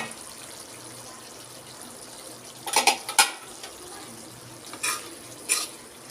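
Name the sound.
stirring papaya and soybean curry in a pan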